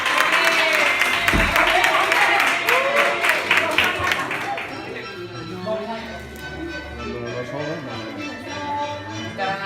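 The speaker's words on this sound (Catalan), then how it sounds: "Vinga, castanyer i castanyera, i un aplaudiment ben fort!" Applause from residents and staff at a Castanyada chestnut festival in a care home in Bellpuig, a steady dense clapping that fills the first half and then gives way to chatter, with bell-like tones ringing through.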